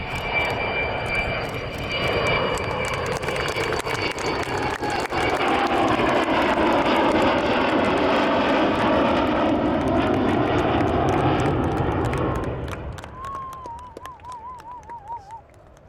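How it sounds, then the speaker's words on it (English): An Avro Vulcan jet bomber with four Rolls-Royce Olympus engines roars past close and loud, a broad rushing howl that sweeps in pitch, then fades with a thin wavering whine near the end. "that famous Vulcan howl of the 4 Rolls-Royce Olympus engines"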